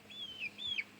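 A young chicken or little rooster gives two quick high clucking calls in close succession, thin and faint against a quiet background.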